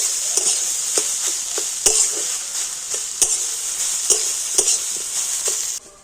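Cauliflower coated with turmeric and salt sizzles steadily in a pan while a spatula stirs it, giving regular scraping clicks roughly every half second over the constant frying hiss, close and fairly loud.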